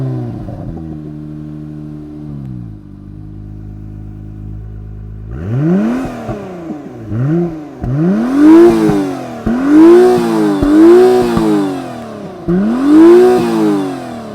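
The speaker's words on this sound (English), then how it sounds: "Let's go ahead and fire it up so you can hear what it sounds like." A 2022 Acura NSX Type S V6 hybrid supercar idles, then its engine revs repeatedly through the black-finish center-mounted exhaust, several sharp rising and falling blips following a steady idle, loud and close.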